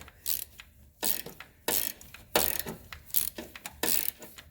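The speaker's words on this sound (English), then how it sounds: "we're gonna get a smaller ratchet" A small ratchet wrench working on a 2016 Subaru Impreza engine during a spark plug tune-up, clicking in several quick bursts with short pauses, close and moderately loud, no talk.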